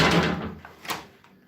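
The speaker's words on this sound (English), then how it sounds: "The door's shut." An indoor door shuts at home with a soft thud, followed a moment later by a fainter knock as it settles, close by in a quiet room.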